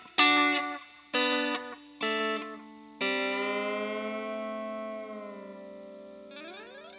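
A country guitar lick is played slowly through an effects unit with distortion and chorus. Four plucked notes and chords are followed by a long sustained ring and a final bend, alone and close.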